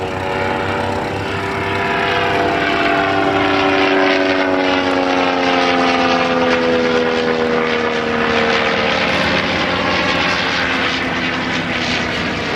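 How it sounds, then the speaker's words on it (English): The rotary engine of a vintage Sopwith Triplane roars loudly at takeoff power, a throbbing propeller drone whose pitch shifts as the aircraft passes close by on a grass airfield. "Just as the Sopwith triplane gets airborne, the Bristol M1C being towed back in."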